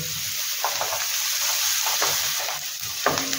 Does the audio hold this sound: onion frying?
yes